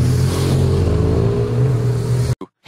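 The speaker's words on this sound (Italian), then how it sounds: "Passa una moto." A motorcycle rumbles past at close range in a small hillside village, a steady loud engine drone with a rising tone that ends abruptly.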